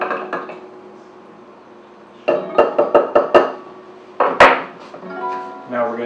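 A muddler crushes gimlet ingredients in a glass: a quick run of five or six close, knocking taps against the glass, then a heavier clattering strike, with quieter handling noise around them.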